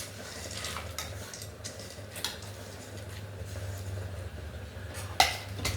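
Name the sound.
roasting cashews and nuts in a pan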